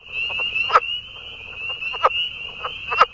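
A newly discovered leopard frog species gives a croaking call with a steady high trill and three sharp, evenly spaced pulsed croaks, close and clear.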